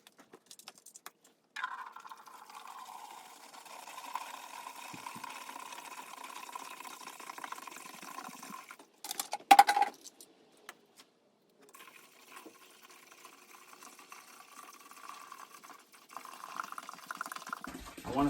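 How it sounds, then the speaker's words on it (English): A small electric pump for antifreeze, plugged in at a summer camp being winterized, runs with a steady mid-pitched hum for several seconds. A short clatter breaks in partway, and the whir then carries on at a lower level. "I'm going to plug this pump in and make sure the dang thing actually works"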